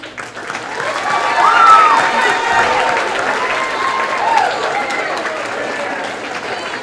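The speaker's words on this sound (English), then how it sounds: "we'll have a round of applause for those students" A high school pageant audience applauds the students, with sustained clapping that swells early and then holds steady, accompanied by whoops and cheering voices in the crowd.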